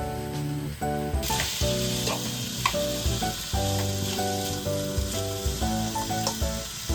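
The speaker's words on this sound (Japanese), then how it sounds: "玉ねぎが少ししんなりするまで炒めていきます。" Onions and vegetables stir-fry in a pan for Japanese curry, a crackling sizzle with occasional stirring scrapes running beneath a prominent melodic music track.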